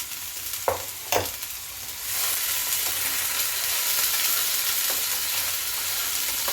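Chicken fries in a pan with a ginger, garlic and tomato paste, giving a loud continuous sizzle after two sharp utensil clanks at the start, with occasional scraping strokes through the hiss.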